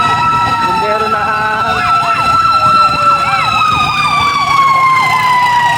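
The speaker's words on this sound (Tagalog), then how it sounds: "Ito na yung bumbero na" A fire truck's wailing siren at a town market fire sweeps loud and close, with a warbling yelp pattern over steady engine rumble.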